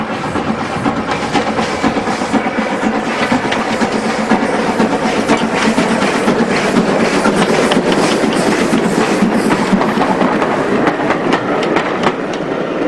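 An LNW 7F 0-6-0 steam locomotive, No. 49395, pulls away from Loughborough, its loud continuous rumble laced with rhythmic chuffing and clanking wheels, close and steady throughout with no voices.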